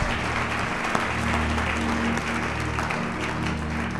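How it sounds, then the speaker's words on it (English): A church congregation at a miracle service claps for Jesus, a steady broad wash of applause filling the hall for the whole stretch, with a sustained organ or keyboard tone humming beneath it. "Can we clap for Jesus?"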